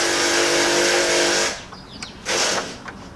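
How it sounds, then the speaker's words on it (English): Impact wrench used by a neighbor across the street working on his truck, a loud sustained whirring burst that cuts off, then a second shorter burst after a brief pause. "That's my neighbor across the street doing some work on his truck with an impact."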